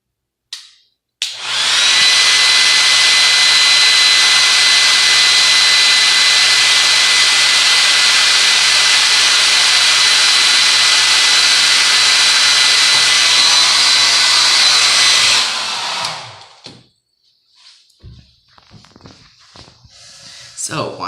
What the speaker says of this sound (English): Now watch as I change the angle of the hairdryer.